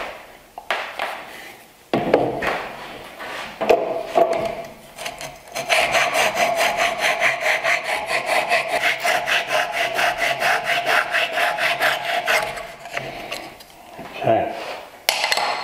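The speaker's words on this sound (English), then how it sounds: "So I'll use the same saw." Hand saw cutting wood for a mitered bridle joint, starting with a few short scratchy strokes, then settling into a fast, even back-and-forth rhythm of rasping strokes, close and loud, before stopping.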